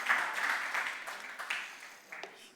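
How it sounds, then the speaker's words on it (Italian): Scattered, fairly quiet applause from an audience at a Sardinian cooking demonstration, several uneven bursts of clapping that fade and pick up again. "Io farei un grande applauso a Marina per il lavoro che svolge"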